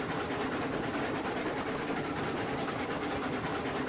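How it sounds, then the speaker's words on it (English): A steam train hauling a Cooke Mogul with thirteen cars runs over freshly laid track in Railroads Online, giving a steady, continuous rumble with faint clickety-clack throughout, fairly loud and without any voices. "This is the first time I've been over it with a train"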